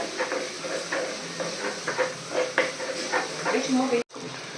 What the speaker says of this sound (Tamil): சட்டியை வச்சுட்டு ஆயில் கொஞ்சம், சோம்பு கொஞ்சம் போட்டுட்டு கடுகு போட்டு பொரிஞ்சதுக்கப்புறம் குட்டி வெங்காயத்தை போட்டு நல்லா ஃப்ரை பண்ணிகிட்ருக்கேன்